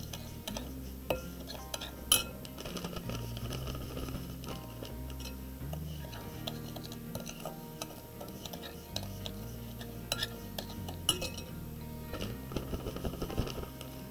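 Sugar being stirred into coconut oil for a lemon hand scrub, giving a continuous run of light ticking and clinking spoon-against-bowl scrapes, fairly close and steady over a low background hum.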